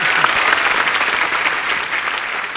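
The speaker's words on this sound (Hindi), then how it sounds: "तालियां" An audience claps for a tabla player at a comedy show, dense sustained applause from a crowd that holds steady and slowly thins toward the end.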